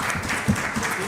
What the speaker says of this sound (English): big round of applause for the organizing team